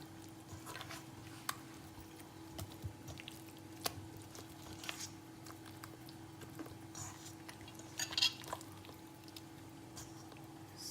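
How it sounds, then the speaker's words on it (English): Thick hung curd being mixed in a bowl, soft wet squishing and occasional spoon taps over a steady low background hum, faint and close. "I have my hung curd and I'll mix that in this."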